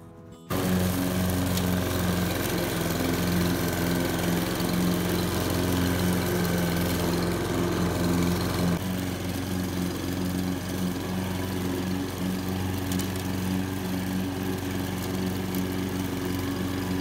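A lawn mower cuts a Bermuda grass lawn, its engine droning loud and steady throughout after a quick start, with a slight drop in tone partway as the load shifts.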